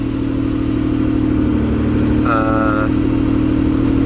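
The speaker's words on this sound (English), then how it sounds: "Here's the cold start." A supercharged Acura NSX engine runs at cold-start idle as a steady, loud, close drone, with a brief tonal chirp partway through.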